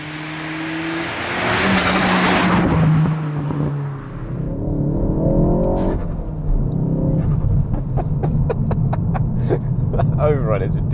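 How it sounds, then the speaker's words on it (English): A Ford Focus ST Mk4 on Revo Stage Two tuning revs hard on a country lane, then lifts off into a string of sharp crackling pops and bangs on overrun, loud and close, with someone speaking over it. "That overrun is ridiculous."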